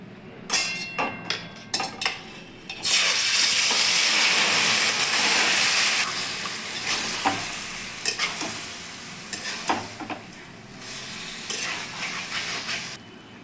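Marinated loitta fish drops into hot oil in a wok with a sudden loud sizzling burst, then keeps frying with quieter hissing under repeated spatula scrapes and clinks.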